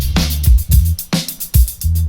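A mixed drum kit routed through a drum bus with saturation and overdrive, playing a steady beat of punchy kicks and snares with bright cymbals, loud and dense with no voices.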